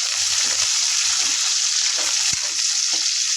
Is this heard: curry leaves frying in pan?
yes